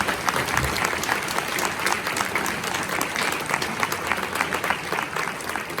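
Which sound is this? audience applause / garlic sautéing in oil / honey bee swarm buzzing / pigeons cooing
audience applause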